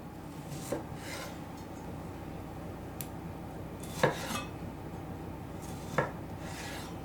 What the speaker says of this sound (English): just roughly chop them into the pot